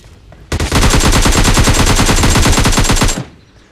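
M416 rifle fire in the video game PUBG: one loud, continuous automatic burst of rapid, evenly spaced shots lasting about two and a half seconds, then a quick fade to quiet.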